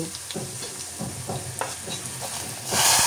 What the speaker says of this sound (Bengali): এখন এই সবজির উপরে আমি এই বাগারটা ঢেলে দিব